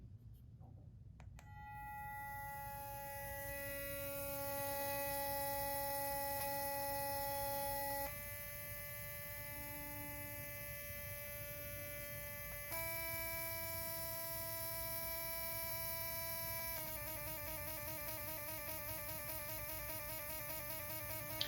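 A steady electric buzz with a clear pitch hums close by from a Soocas X3U sonic electric toothbrush, shifting tone a few times as modes change, and in the last stretch it pulses rapidly.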